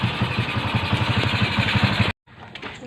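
A Kawasaki Barako motorcycle engine, freshly tuned, idles close up with a steady, rapid low thumping pulse, then cuts out abruptly near the end, leaving faint background noise.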